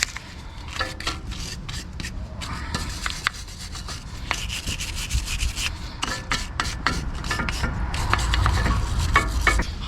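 Scrubbing and rubbing on the front brake of a BMW 1 Series F20, cleaned before new pads are fitted; close, irregular scraping and brushing strokes with small knocks, moderately loud, with no talking.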